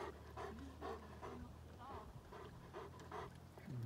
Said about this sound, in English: There's the other doggies.